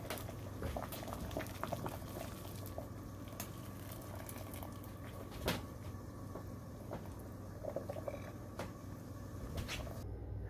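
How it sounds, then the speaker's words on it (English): Water at a steady boil in a pot for blanching a bell pepper, a continuous bubbling and hissing texture with occasional light clinks and knocks, moderately quiet and close throughout. "you need to put it in boiling water for 5 minutes to blanch it"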